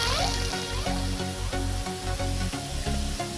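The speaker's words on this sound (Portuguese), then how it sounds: "Tem uma cachoeira aqui, ó." Small waterfall in the hills, a steady close rushing and splashing of water, fairly faint, heard alone without talk.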